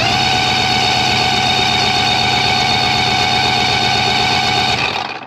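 A 1989 Mercury 75hp outboard motor runs steadily at a constant rumbling pitch with a faint whine on top, close and loud, then cuts out abruptly at the end.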